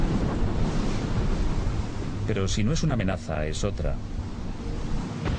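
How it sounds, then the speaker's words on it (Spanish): Wind and rough sea waves aboard the OOCL Atlanta container ship, a constant loud roar of gusts and surf with someone talking over it partway through. "El viento se vuelve más fresco, el mar se encrespa."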